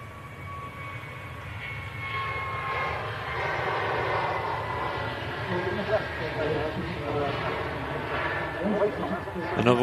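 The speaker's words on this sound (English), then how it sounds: "Another one of the rather bare-looking Jet2 321 Neos." A Jet2 Airbus A321neo airliner passing, a broad engine roar that swells gradually and stays steady for several seconds, with people chatting over it.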